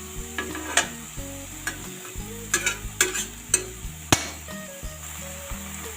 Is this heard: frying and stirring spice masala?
yes